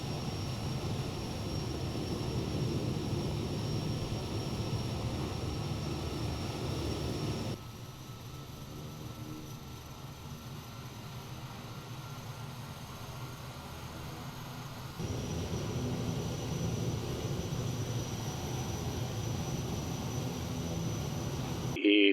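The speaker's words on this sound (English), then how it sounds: "Kodiak 100 is one of the hardest turboprops to fly in Microsoft Flight Simulator, especially during the takeoff" A Kodiak 100 turboprop in Microsoft Flight Simulator 2024 holds a steady, loud engine roar through its takeoff run, with a broad hiss and whine that dips in level midway and then returns.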